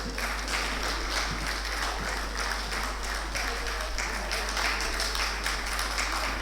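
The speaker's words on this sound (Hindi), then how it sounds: "मेरे ख्याल से आप लोग तालियां बजाना शुरू कर दें।" Sustained audience applause fills a hall during a Ghalib literary book event, a dense steady patter of many hands clapping at even loudness throughout, with no voices over it.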